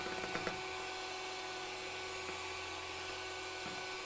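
An electric mixer beats sugar for a strawberry tea cake with a continuous, steady motor whine and a few light clicks at the start, fairly faint and without talk.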